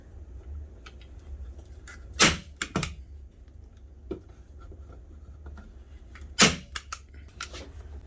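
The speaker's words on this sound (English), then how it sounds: "Now we're going to staple the wire jute cord onto the 1x2s" A staple gun fires sharp, loud snaps as it drives staples through wire jute cord into 1x2 wooden strips, two pairs of close clacks separated by quiet handling noises.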